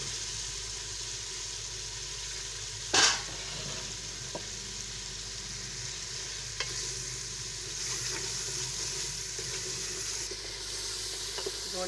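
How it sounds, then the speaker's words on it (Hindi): Meat frying with crushed garlic in a spiced pan, giving a continuous sizzling hiss, one sharp clatter of a utensil early on and faint scrapes of stirring afterward. "गोश्त साथ साथ भून रहा है,"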